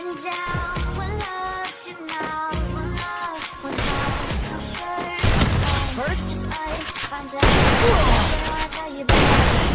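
Desert Eagle pistol shots in the mobile shooter Free Fire ring out as several sharp, loud cracks spaced seconds apart, mixed with busy in-game effects, tonal game sounds and voices.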